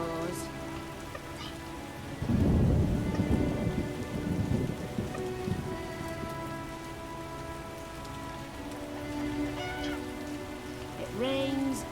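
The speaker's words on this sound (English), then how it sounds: "It rains and it pours." Steady heavy rain with rumbling thunder in The Witcher video game, a thunder roll swelling early and fading, a musical drone beneath.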